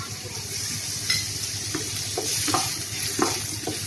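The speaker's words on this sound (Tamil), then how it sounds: "பைனாப்பிளை லைட்டாக வதக்கிக்கோங்க" Pineapple pieces sautéing in a pan on low flame for rava kesari, a steady close sizzle with intermittent scraping stirs and light clinks of the spoon.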